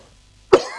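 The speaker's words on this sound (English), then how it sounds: "But I wasn't quick enough to get that cough." A single sharp cough bursts out alone after a quiet stretch, close and fairly loud, its tail fading over a moment of room tone.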